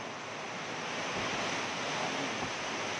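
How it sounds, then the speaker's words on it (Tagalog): Typhoon weather in Lipa, Batangas, with a dense, constant roar of strong wind and heavy rain filling the air, loud and unbroken with no voices. "grabe lakas ng ulan, lakas ng hangin"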